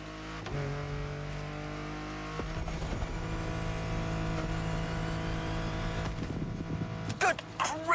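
A car in the off-road racing game The Crew Motorfest runs at full speed downhill, its engine droning loud and steady with shifting pitch and a rough clatter near the end.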